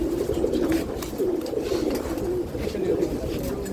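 Pigeons kept for competitive flying coo in a steady, continuous low murmur, several birds close by with overlapping calls throughout and no clear talk.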